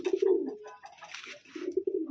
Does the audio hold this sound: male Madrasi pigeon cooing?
yes